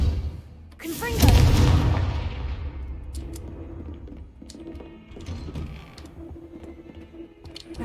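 In Hogwarts Legacy, a Confringo spell bursts into a loud, booming explosion that rumbles and fades over a couple of seconds, followed by scattered clicks and mechanical game sounds.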